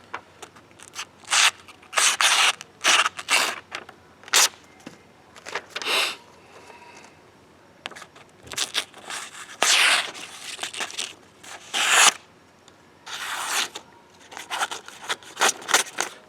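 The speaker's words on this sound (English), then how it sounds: "Let's go ahead and do the paper cut test and see where we're at. Standard, just notebook paper," A Benchmade Redoubt knife slices through thin, flimsy notebook paper in a series of short, crisp cutting and tearing strokes, separated by brief pauses, close and alone with no talk.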